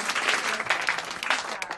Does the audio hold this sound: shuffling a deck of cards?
no